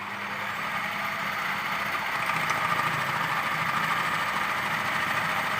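A Philips food processor runs continuously, slicing long beans, its motor a steady droning hum with a faint rhythmic vibration, close and unbroken, with no talking.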